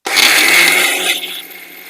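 A mixer grinder whirs loudly, grinding soaked rice and lentils with their soaking water into dosa batter, a dense continuous roar that fades slightly toward the end.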